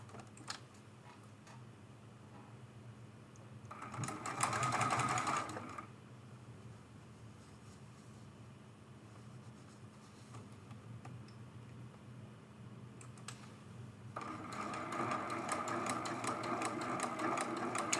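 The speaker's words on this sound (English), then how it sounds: "And we're sewing from the edge to the other edge." A sewing machine stitching a quilt seam edge to edge at a 2.6 stitch length, humming in two bursts, a short one early and a longer steady run near the end, fairly quiet and without talk.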